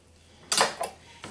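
A knife scrapes and clinks as it widens a hole in a raw chicken breast for a Chicken Kiev, giving a short loud burst, a second smaller scrape, and a faint tap at the end.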